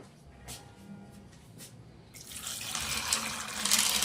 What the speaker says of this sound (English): I'll soak it in water for about 5 minutes